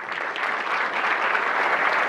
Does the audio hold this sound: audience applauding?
yes